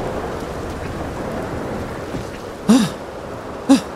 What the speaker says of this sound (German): Könnt ihr nicht mal mit Petrus reden, dass er noch mal aufhören soll mit dem mit dem Regenwetter, ja?